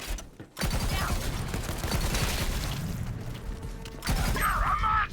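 Rapid gunfire and mechanical weapon clatter from the video game Borderlands 3 roll on continuously at close range, with a short gap near the start and a brighter burst near the end.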